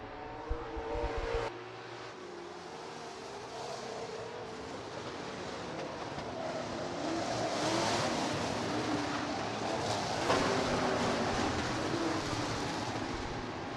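A late model street stock race car comes around the track at Rapid Speedway, its engine a broad, steady roar that swells louder and nearer over several seconds amid background crowd and track ambience.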